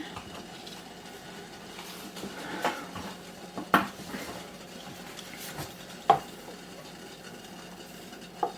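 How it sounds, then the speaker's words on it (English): Preserves being stirred in a pot with a spoon: a quiet, continuous scraping swirl broken by several sharp clinks of the spoon against the pot's rim and sides, close by with no talking. "So we're just going to stand here and stir constantly."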